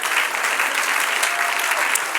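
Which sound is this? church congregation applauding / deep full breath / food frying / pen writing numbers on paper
church congregation applauding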